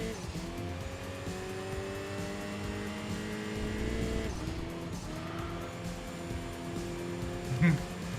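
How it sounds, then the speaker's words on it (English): A race car with an upgraded exhaust drones loudly in Enthusia Professional Racing, its steady engine tone shifting pitch, with tire squeal and a brief thump near the end under faint commentary. "You can hear the upgraded exhaust as well."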